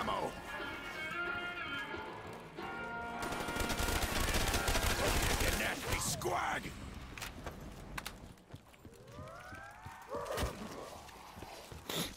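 Rapid bursts of gunfire from the Pharaoh gun in Call of Duty Zombies on the Kino Der Toten map, fast repeated shots mixed with game effects and players talking over them.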